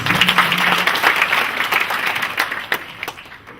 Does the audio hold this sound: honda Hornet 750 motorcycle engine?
no